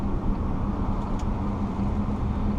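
A 2015 Audi Q7 3.0 TDI drives through turns, heard as a steady muffled cabin hum of road and engine noise at moderate level, continuous with no voices.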